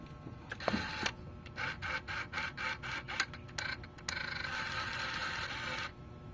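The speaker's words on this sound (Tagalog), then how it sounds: "So hindi dapat ganun yung tunog ng servo." Servo of a Mitsubishi Lancer GLXI with the ignition on, giving a steady mechanical whirring and rhythmic clicking that runs on for several seconds instead of stopping, heard close with no talk.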